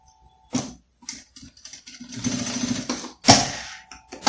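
A sewing machine stitches fabric with a backstitch, brief bursts of rapid mechanical chatter broken by pauses, then a longer run of stitching, close up.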